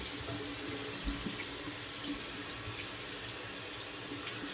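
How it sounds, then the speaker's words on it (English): Running tap water rinsing a brush in a sink, a steady close hiss of flowing water that continues throughout with no talking. "Just rinsing off my brush a little bit."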